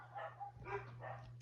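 Several dogs bark in quick successive yaps indoors, a short burst of three or four barks at moderate distance under a steady electrical hum.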